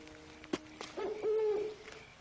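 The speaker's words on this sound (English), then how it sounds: "You suppose that owl knows anybody we know?" An owl hoots at night in a drama scene, a few sustained mid-pitched hoots rising out of a quiet background after a couple of soft knocks, moderately close and alone without talk.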